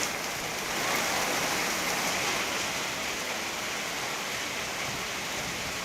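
Steady rain falls across Mumbai as a dense, even hiss that holds at a constant level throughout, with no voices over it.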